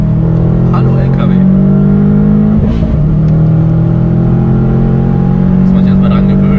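Subaru at full throttle on a German Autobahn, heard from inside as a loud, constant engine drone with road and wind roar, while occupants talk over it.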